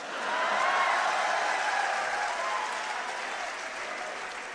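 Audience applause at a Hindi kavi sammelan poetry recital: a large crowd claps in a smooth, sustained wash, swelling quickly then slowly fading, heard from a distance with no talking.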